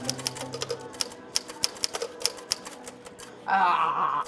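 Typewriter keys strike one at a time in a slow, uneven rhythm of sharp mechanical clacks, close and distinct, before a burst of louder clattering noise near the end.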